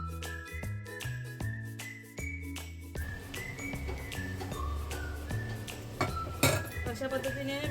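Cooked vegetables for white sauce pasta being lifted out into a bowl, with repeated metallic clinks and scrapes of utensils against cookware, close and fairly busy, while background music plays throughout.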